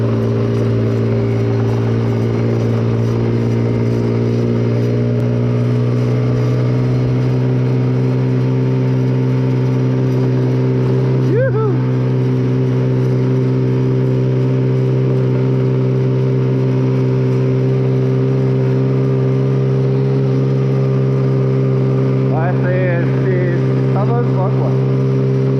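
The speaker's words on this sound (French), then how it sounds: "C'est un moteur de Kymco quoi." A Kymco quad's scooter-type engine, revived after a year left outdoors, runs with a loud, steady, humming drone that barely changes in pitch, while people talk over it.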